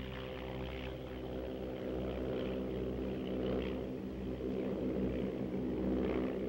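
A chartered propeller airplane drones steadily in flight as heard from inside the cabin, a continuous engine hum with a low throb that holds level throughout, with no voices.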